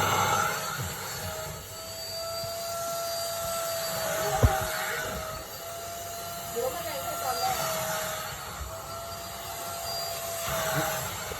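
A vacuum cleaner runs continuously with a strong, steady whoosh of airflow and a high motor whine, loud and close, with a sharp knock partway through and someone talking over it.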